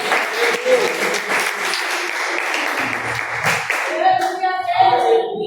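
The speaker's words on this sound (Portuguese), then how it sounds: "Aplauda Ele, pois Ele é bom" A church congregation applauds during a worship service, a steady crowd clapping throughout with voices and a tonal sung or spoken line rising over it near the end.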